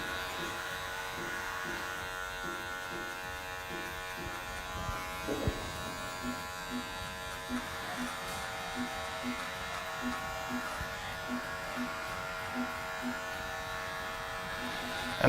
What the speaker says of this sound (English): now I'm going to get my adjustable clipper, I'm going to open it all the way up, and I'm going to go up about 1 inch